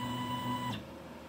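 A CNC machine moving along its x axis while drawing a line gives off a steady motor whine with tonal hum, ending abruptly as the carriage stops, followed by faint room noise.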